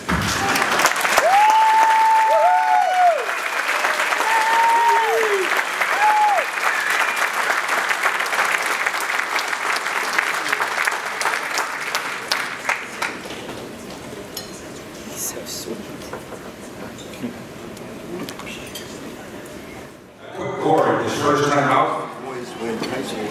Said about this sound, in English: Thank you for your applause and your silence.